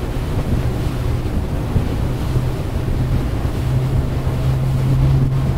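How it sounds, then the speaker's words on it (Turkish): Loud, steady wind roar buffets the microphone over rushing water and a droning engine hum as a Sacs Strider 11 boat speeds at top speed into a headwind, with no voices. "Tam kafadan rüzgar alıyoruz."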